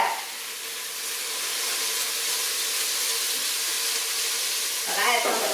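Beef browns in oil in a pot on a hot stove for stew, giving a continuous close sizzle with a brief stirring scrape near the end.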